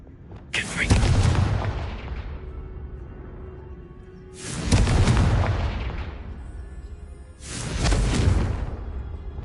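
Three loud, booming fire-spell explosions from the Hogwarts Legacy video game, each a sharp blast that rolls off into a long rumbling decay, spaced a few seconds apart.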